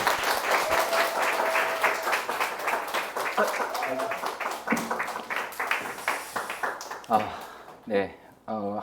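Applause in a Zoom meeting welcoming a speaker: a crowd of clapping participants heard through video-call audio, fairly loud, with a voice cutting in near the end as the clapping thins out.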